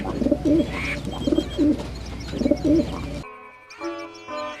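A pigeon coos close by in repeated soft, throaty phrases, three or four rolling calls, then a few brighter chirps at the end.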